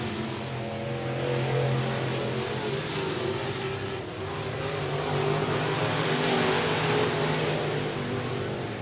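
Race cars in the main event at I-37 Speedway, a sustained layered engine roar that rises and falls as the field laps, fairly distant and steady throughout.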